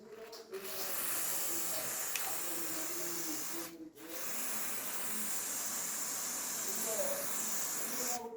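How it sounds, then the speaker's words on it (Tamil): WD-40 is sprayed onto a rusty refrigerator door in two long, steady hissing bursts close to the microphone, broken by a short pause. "WD-40 ஸ்ப்ரே அடிச்சு ஈஸியா தேய்ச்சி எடுத்துடலாம்."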